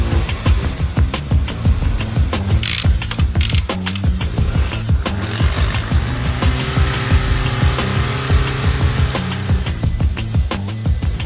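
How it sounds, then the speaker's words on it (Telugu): A TVS Jupiter scooter engine started by its electric starter on a factory test stand, running steadily with loud, rhythmic mechanical clatter and whirring throughout, no talk. "ఎలక్ట్రిక్ స్టార్ట్ మోటార్ ఆన్ చేసి engine start ability, noise, RPM అంటే రొటేషన్ పర్ మినిట్ చెక్ చేస్తారు"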